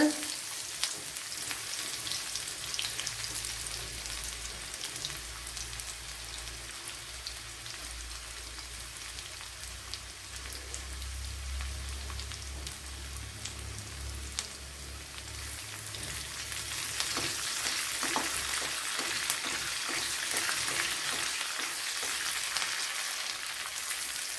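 Chopped shallots fry in hot oil in a pan for a chicken curry, giving a dense crackling sizzle like light rain. It stays loud and close for the whole stretch and grows busier toward the end, with no talking.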